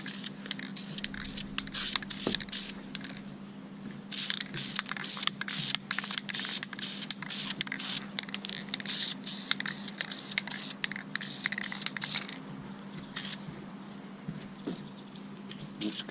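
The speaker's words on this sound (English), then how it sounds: "we'll go with our vertical spray now" VHT Wrinkle Plus paint sprayed from an aerosol can onto engine valve covers, a run of short hissing bursts and sputters of varying length, close and fairly loud, with no talking.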